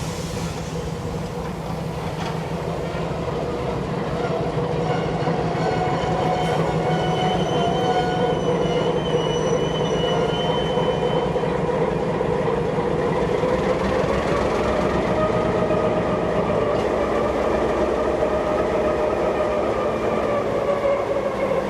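A steam train rumbles steadily along the rails for a long stretch, with metallic wheel squeals and hums layered over the constant roar, at Thirlmere, New South Wales.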